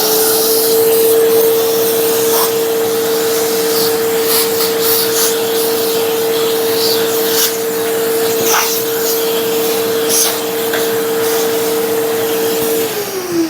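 Festool Kapex KSC 60 cordless miter saw running through three cuts, its motor a steady loud whine held for over twelve seconds and winding down at the end, with scattered higher rasping bursts as the blade bites the wood.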